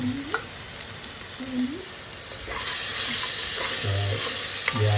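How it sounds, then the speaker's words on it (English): Cinnamon, cloves and cardamom sizzle in hot oil with ginger and garlic for chicken dum biryani, a steady close frying hiss with occasional stirring clinks and tonal squeaks. "we are adding the cinnamon cloves and also cardamom"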